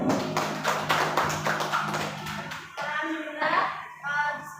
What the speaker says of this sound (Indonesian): Kita berikan pada semua yaitu tepuk tangan Bapak Ibu ya.